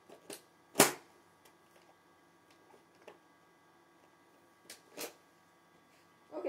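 A Nerf blaster fires waffle head darts in a few sharp, separate snaps, one louder pop early and others scattered, alone in a quiet room.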